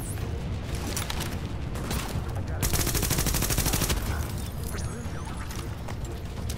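Turret gunfire rattles in Tom Clancy's The Division, rapid dense automatic bursts that keep going through the whole stretch and grow louder and sharper in the middle, with game noise around them.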